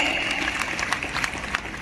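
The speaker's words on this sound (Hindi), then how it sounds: "और जोर से तालियों की गड़गड़ाहट आनी चाहिए।" An audience at a political meeting at a farm in Delhi applauds, producing a dense, continuous patter of clapping at close range with no pauses.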